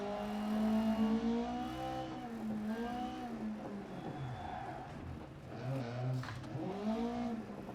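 A rear-wheel-drive Ford Escort MK2 rally car revs hard in a racing video game on a wet mountain road. The engine note climbs and falls steadily throughout, loud and close, with no talking.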